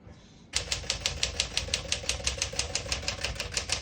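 A 1961 Smith-Corona Sterling portable manual typewriter being typed on: a quick, even run of about fifteen crisp mechanical key strikes, close and clear, with no talk.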